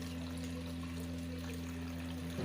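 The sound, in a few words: water draining through cloth strainer from milk curds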